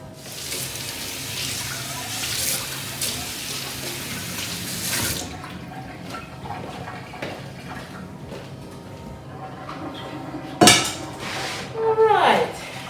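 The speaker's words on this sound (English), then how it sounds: "I will rinse my pot though." A pot is rinsed under a running kitchen tap: splashing water flows unevenly, then metal clanks and knocks as the pot is handled at close range, with a voice speaking at moments.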